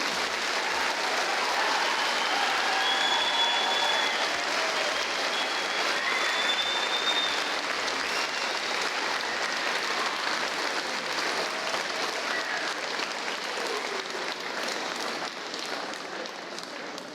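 Sustained crowd applause for a student at a middle school 8th grade graduation ceremony, steady and dense clapping that holds for the whole stretch and tapers slightly at the end, with no voices over it.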